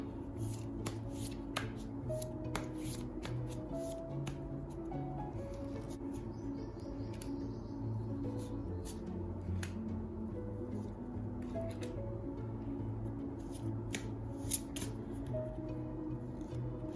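Tarot cards being shuffled and picked for a partner's reading, giving soft papery riffles and light flicks against a steady low background hum, with scattered small taps throughout and no talking.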